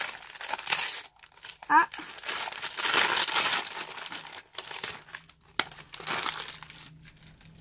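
Crinkling and tearing of packaging as a Halloween swap parcel is opened, sharp crackly bursts coming in irregular bouts close to the microphone, with a brief exclamation and soft talk in between.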